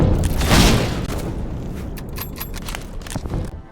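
A dull, rumbling boom swells and fades from an experimental grenade launcher in the war game Conscript. Scattered debris rattles and crackles after it, and no one speaks.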